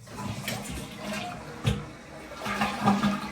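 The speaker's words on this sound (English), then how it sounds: "we got to do the toilet flush test." A hotel bathroom toilet at the Hyatt Regency Savannah flushing: a close rushing swirl of water with a sharp clunk midway, then surging refill noise, loud and alone.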